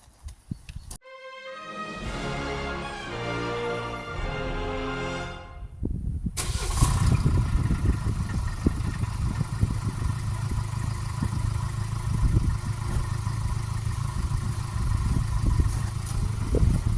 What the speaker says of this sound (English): So step one, start the engine.